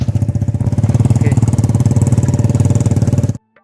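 A motorcycle engine running again after a breakdown on a road trip in Kalimantan, a loud, close, rapid regular putter that holds steady for a few seconds and then cuts off abruptly.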